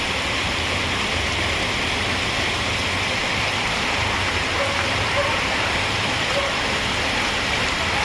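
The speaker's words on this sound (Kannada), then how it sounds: "ಮಳೆ ಹೆಂಗೆ ಬರ್ತಾ ಇದೆ ನೋಡಿ. ನೀರೆಲ್ಲ ಹರ್ಕೊಂಡು ಹೋಗ್ತಾ ಇದೆ." Heavy rain pours down in Bengaluru in a dense, unbroken roar, with water rushing steadily underneath; no voices stand out.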